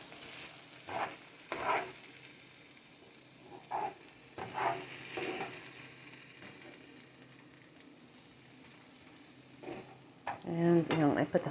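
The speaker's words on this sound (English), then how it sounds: "I'm just going to saute these for a couple of minutes, just so it softens up." Tomatoes sauté in a pan for a vegan breakfast burrito, a soft, quiet sizzle broken by intermittent stirring scrapes and utensil clatter against the pan, busier toward the end.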